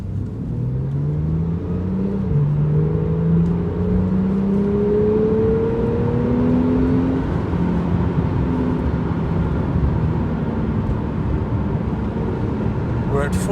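A Porsche 911 991 Gen 2 accelerating through about 4,500 RPM, its engine note climbing in steady pitch sweeps as it gains speed, loud and continuous from inside the car over a constant road rumble.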